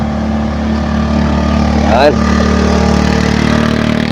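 A motorcycle engine strains on a steep uphill road it cannot climb, giving a loud, steady, close droning hum that runs unbroken throughout, with one brief spoken word from a man partway through.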